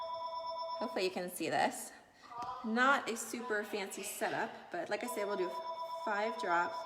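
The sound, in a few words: phone ringing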